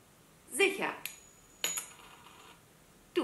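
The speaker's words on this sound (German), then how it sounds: "Hey Google, wirf eine Münze." A Google Home smart speaker plays a coin toss sound effect: a bright metallic ping as the coin is flipped, then a couple of clinking rings as it lands, each crisp and close with faint room tone between.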